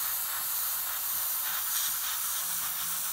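Mission Models acrylic paint in RAF underside gray is airbrushed in a light wet coat, a continuous close hiss of spray that holds steady without pause.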